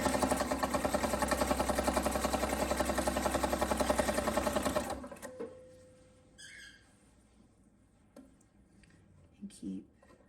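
A sewing machine stitches quilt binding with a fast, steady mechanical chatter for several seconds, then stops. Quieter handling and faint clicks follow.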